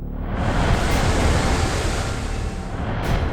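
Seawater rushes and churns through the flooding lower decks of a warship damage repair simulator, a steady loud broadband wash with no pauses and no voices.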